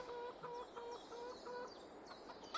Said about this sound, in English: Hi, chickens.